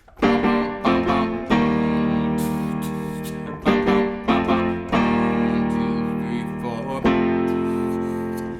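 Piano plays a short chordal transition, sustained chords struck in a loose rhythm with brief pauses between phrases.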